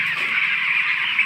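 A dense chorus of chicks fills a poultry farm shed, a constant high cheeping close by with no talk.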